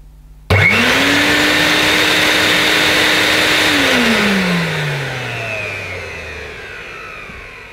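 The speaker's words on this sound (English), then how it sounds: "I'm going to turn the motor on" The motor of an Electrolux Masterlux 3-in-1 vacuum cleaner under fault-finding switches on with a sudden loud whirring hum, runs steadily for a few seconds, then winds down as it is switched off.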